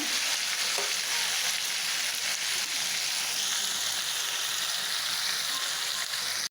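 Shredded cabbage fries with onions for cabbage fried rice on a windy stove, a loud continuous hiss and sizzle with faint stirring, close and unbroken until it cuts off at the end.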